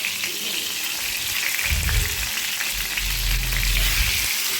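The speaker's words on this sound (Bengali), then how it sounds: "এবার তেলের মধ্যে মাছগুলোকে হালকা করে ভেজে তুলে রাখবো।" Pieces of hilsa fish fry in a pan of oil, a loud, dense, continuous sizzle heard up close, with a few low bumps from the pan and no talking.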